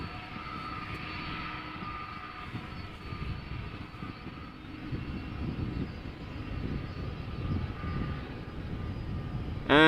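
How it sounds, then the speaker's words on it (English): A Delta Airbus A330 jet departs Amsterdam Schiphol, its engine roar a steady, broad rumble that holds loud and close throughout with a faint higher whine above it. "Delta A330 outbound to Atlanta."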